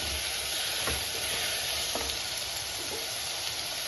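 Medium green chillies and curry leaves frying in hot oil in a pan, a loud, continuous crackling sizzle with a few soft stirring scrapes.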